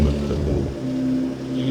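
A truck engine fitted with a new air intake runs with a deep, loud, steady drone that dips and swells slightly as it is revved, close by.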